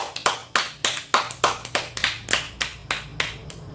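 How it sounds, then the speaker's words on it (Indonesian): Group applause at a training session, a steady run of sharp, fairly close claps in an even rhythm, about a dozen distinct bursts with no voices over them. "Tepuk tangan buat kita semua."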